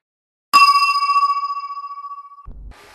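A single bright, clear chime serves as a sound-book page-turn cue. It is struck once and rings steadily for about two seconds, then gives way to a brief low thump and faint noise.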